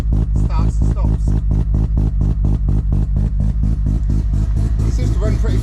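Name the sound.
turbo Mazda RX7 rotary engine running, exhaust braps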